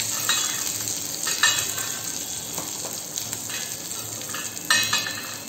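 Steady, crackling sizzle of red chili, turmeric and asafoetida frying in hot oil for a tempering, close up, with a few light clinks and stirring sounds and no talking.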